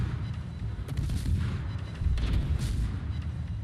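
Ship guns firing in World of Warships, heard as deep booming salvos with rumbling low-end reports, a few heavy shots rolling one after another over continuous battle noise.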